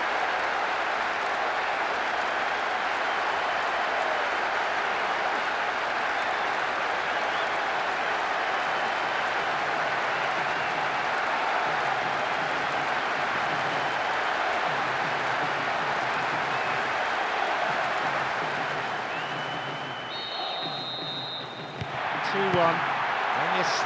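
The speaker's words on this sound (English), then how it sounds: "the crowd not really hiding their disappointment" Stadium crowd noise from the PS2 football game Pro Evolution Soccer 2009 during a Japan versus Germany match, a steady loud roar of spectators filling the whole stretch, thinning briefly near the end with a few higher tones over it.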